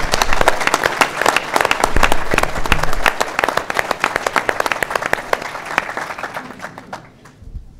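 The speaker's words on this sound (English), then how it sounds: "let's give you all a round of applause." Warm applause from a town hall meeting audience honoring county commissioners, many hands clapping loudly and evenly before thinning out and fading near the end.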